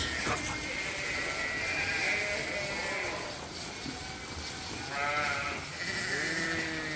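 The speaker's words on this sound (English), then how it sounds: "the sheep are all doing well" Sheep bleat several times at moderate distance over a steady, noisy outdoor background during summer feeding on a farm.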